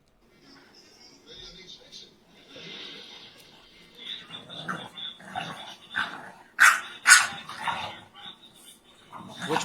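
Dogs bark, yip and growl in a played-back video, including a white dog without front feet, the sounds building from faint to sharp loud barks, with talking mixed in.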